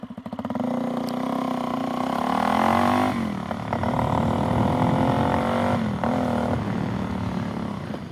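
A brand-new Suzuki DRZ400SM single-cylinder engine fitted with a knock-off FCR 39 carburetor, revved up from idle close by: pitch climbs smoothly, drops back, then rises again in a loud, sustained buzzing drone.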